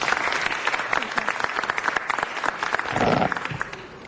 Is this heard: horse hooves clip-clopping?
no